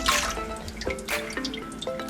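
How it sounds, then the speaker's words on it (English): Water trickles and drips into a bowl of bread sourdough starter, a thin close pour with small splashy drops and gurgling plinks, fairly quiet with no talking. "I've added the water."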